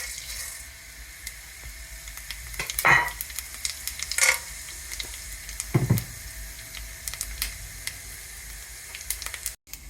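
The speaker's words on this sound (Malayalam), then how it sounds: "ഇപ്പോൾ ഇവിടെ ഒരു പാൻ അടുപ്പിൽ വെച്ച് ചൂടാക്കിയിട്ട് 2 ടേബിൾ സ്പൂൺ എണ്ണ ഒഴിച്ചിട്ടുണ്ട്." Spices sizzle in two tablespoons of hot oil in a pan for an egg curry, a soft steady crackle with a few louder clinks and scrapes.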